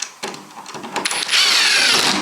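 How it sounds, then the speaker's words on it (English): A handheld power drill gives a few short starts and then a steady high whine as it drives a screw into a piece being assembled, loud and close. "We're going to just take our drill."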